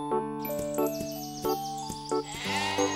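Sheep bleat repeatedly at close range, several wavering calls in a row, with light bells tinkling among them.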